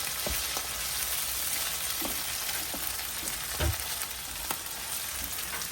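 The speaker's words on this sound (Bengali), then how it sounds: "মাছগুলো দিয়ে দিচ্ছে, একটু ফ্রাই করবে" Fish, with dried fish mixed in, frying in a pan in a home kitchen, with a steady broadband sizzle and occasional sharp crackles and pops throughout, no talking.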